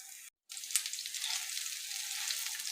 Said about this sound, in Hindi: ये तवे के ऊपर मैंने पराठा जो है वो डाला हुआ है।